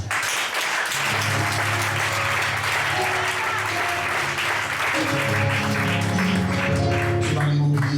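A congregation at a church service bursts into sustained, loud applause that fills the room, with music tones rising beneath the clapping toward the end.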